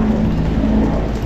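Strong rain pours down steadily outdoors as a dense, loud, even hiss with a low rumble beneath, continuous for the whole moment and with no voices.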